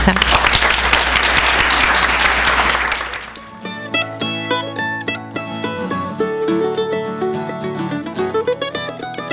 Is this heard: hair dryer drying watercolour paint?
no